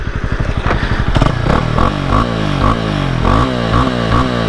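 A 2022 Honda CB300R single-cylinder engine idles with a fast, steady putter, then gets blipped several times, each rev swelling briefly and falling back, close and clear with no talk.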